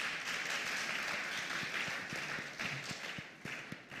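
Scattered applause rings out from a conference audience, a dense patter of clapping with a few sharper individual claps standing out, fairly faint.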